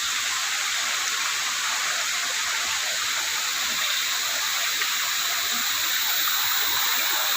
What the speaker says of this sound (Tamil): அது உள்ளே இருந்து அந்த தண்ணியானது வருது